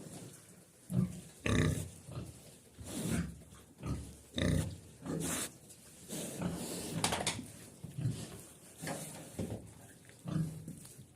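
Pigs grunt close by in irregular bursts, with snorts and short squeals scattered through the clip; no one speaks.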